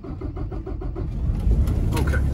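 A 2016 Kenworth T680 truck with a Paccar MX-13 485 hp diesel is started cold: a rhythmic cranking chug for about a second, then the engine catches and settles into a loud, close rumble.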